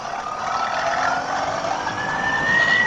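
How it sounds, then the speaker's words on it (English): Honda CRF 450RL dual-sport motorcycle with an aftermarket exhaust accelerating, a steady mid-pitched engine drone that rises gradually in pitch and loudness toward the end, with wind noise over it. "And with the exhaust, it's just quiet acceleration."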